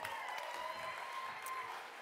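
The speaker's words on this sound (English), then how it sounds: "Give these guys a big round of applause." Audience at a live-streamed camp gathering applauding, a steady, moderately quiet patter of clapping with a faint tonal hum underneath.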